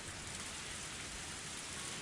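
Heavy rain pours in a visual novel game scene, a dense, even roar of downpour that holds steady and fairly soft throughout, with no voices.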